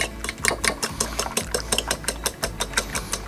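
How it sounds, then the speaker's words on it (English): Eggs seasoned with salt and freshly ground black pepper are whisked in a bowl, giving a steady, rapid run of rhythmic clicking strokes at close range with no talking. "And whisk those in as well."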